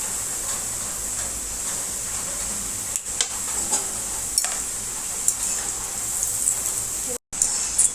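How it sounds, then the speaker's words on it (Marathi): Sweet kapnya dough pieces frying in hot oil, giving a steady close hiss and sizzle with small pops and crackles throughout, briefly cut off near the end. "तर आता हे काप आपण तळून घेऊया आपलं तेल गरम झालेले"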